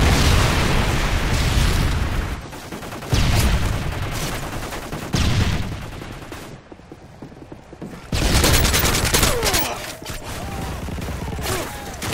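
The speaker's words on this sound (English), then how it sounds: "Friendly Predator missile inbound" Predator missile strikes boom in the Modern Warfare 3 video game. Four loud, heavy blasts roll out one after another, each followed by a rumbling decay, with mechanical game noise between them.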